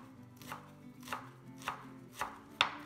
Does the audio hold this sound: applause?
no